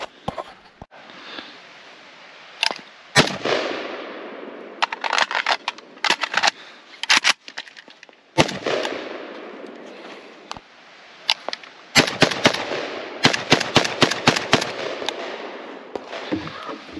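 Palmetto GF5 AK rifle fired during accuracy testing outdoors, a series of sharp loud reports in irregular bursts, some single shots and quick strings, each with a short echoing decay.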